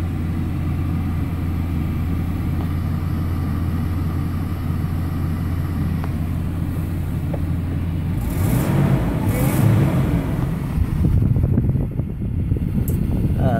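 A 2003 Nissan Xterra engine idles as a steady low hum, then turns over and catches around the middle, settling into a fuller, slightly louder running rumble with fan-like hiss, no talking over it.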